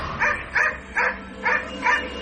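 A dog barks five times in an even, steady rhythm, each bark clear and fairly close, set against a quiet background with no talking.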